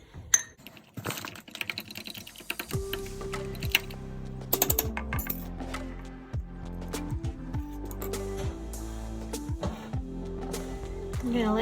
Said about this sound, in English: I'm gonna whisk that up